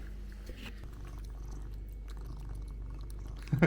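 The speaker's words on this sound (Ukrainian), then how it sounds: "Він реально мурчить, як трактор якийсь." A cat purrs steadily and rumbles up close while chewing and munching on food, quiet overall, with a brief louder clatter at the end.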